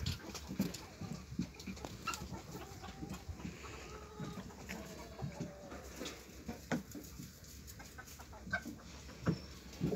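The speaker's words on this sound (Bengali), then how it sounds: "এই যেখানে দেশি মুরগিও আছে," Local chickens at a farm in Buraidah, Saudi Arabia, cluck intermittently at moderate distance, mixed with scattered knocks and other farm sounds over a quiet background.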